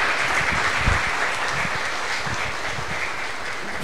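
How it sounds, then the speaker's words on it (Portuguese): A congregation at a novena for Saint Francis of Assisi applauds in a dense, steady wash of clapping that fills the room and fades slightly toward the end. "Vamos aplaudir mais uma vez com alegria."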